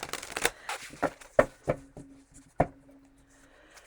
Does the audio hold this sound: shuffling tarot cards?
yes